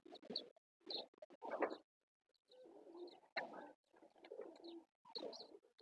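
A pigeon coos softly at close range in a series of short, throaty bursts, with a brief pause partway through.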